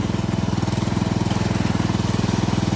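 A 16.5 horsepower riding mower engine fitted with a slightly smaller carburetor runs loud and close, a fast, even pulsing chug with no voices over it.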